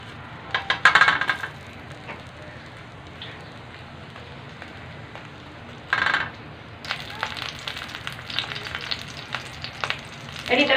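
Mini burgers fry in a pan with a steady crackling sizzle that swells into louder spitting bursts near the start, in the middle and over the last few seconds, heard close with no talking.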